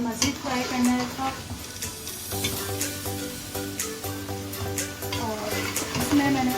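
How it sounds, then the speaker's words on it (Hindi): Chicken frying in a pan with onion, garlic and ginger, a steady crackling sizzle with clinks and scrapes of stirring against the pan, close and fairly loud, no talking. "उसमें चिकन फ्राई किया और उसमें लहसुन अदरक के साथ उसको और मज़ीद फ्राई करना रखा"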